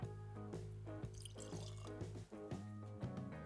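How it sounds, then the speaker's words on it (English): Lagavulin 12-year cask strength whisky poured into a blender's glass, a close, gentle glugging pour in uneven pulses with small liquid bubbling, quiet and alone. "Pouring into my trusty blender's glass today."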